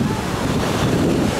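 Small sea waves wash onto a beach in Alanya, Turkey, in a continuous loud rush of surf. Gusting wind buffets the microphone throughout.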